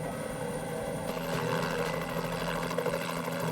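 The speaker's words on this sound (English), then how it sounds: "The state police had a chopper flying around" A state police helicopter flies overhead with a loud, steady rotor and engine roar that swells slightly, continuous and near, with no voices.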